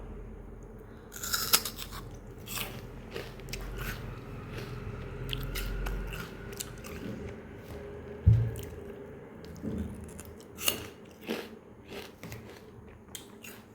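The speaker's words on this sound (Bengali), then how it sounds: "আমি এখন খাবো আখ আপনাদের ভাইয়া কেটে দিল আমি শুধু চিবিয়ে চিবিয়ে খাবো" Someone bites and chews pieces of cut sugarcane, giving wet squishy chewing with occasional sharper crunchy bites and a loud snap midway, close up, with no talk.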